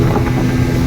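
A speedboat runs across a lake in Hyderabad, with a steady loud engine drone and wind buffeting the microphone the whole time, no talk heard.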